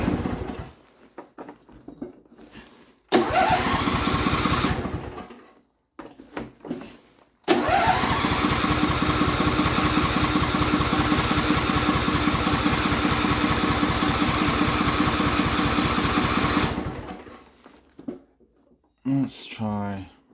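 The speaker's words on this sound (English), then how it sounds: "we're going to do a quick cold start on the Allis-Chalmers here" An Allis-Chalmers AC130 garden tractor with a Briggs & Stratton V-twin engine is cold started: two short cranking bursts, then a long run of loud, steady close-up running that cuts off, followed by a brief restart attempt.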